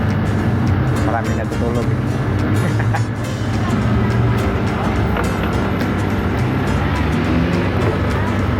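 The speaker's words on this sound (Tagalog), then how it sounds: "Pasensya ka na sa mga maingay na kotse dyan." Steady, noisy traffic of cars passing on the street below a balcony, a constant close road rumble running the whole time under someone talking.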